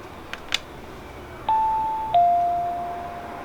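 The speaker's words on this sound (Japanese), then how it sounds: "ピンポン押していきたいなと思います" A two-tone doorbell chime at the door of a Japanese teacher's house in Iceland, ringing one ding and then a lower dong that each ring out and slowly decay, clear and alone against quiet outdoor background.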